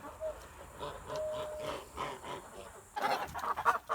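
Geese clucking and chattering in a farmyard, a steady stream of calls that grows busier and louder toward the end.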